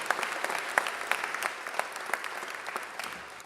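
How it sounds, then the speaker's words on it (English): A steady round of audience applause at a Louisville public meeting on the Heritage West development agreement: dense, continuous clapping at moderate distance with scattered sharper claps and no voices over it. "So let's give Sherry Bryan Hamilton a round of applause in absentia"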